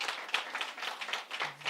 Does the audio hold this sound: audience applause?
yes